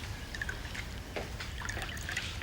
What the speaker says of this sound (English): I was just pouring you some cool drinks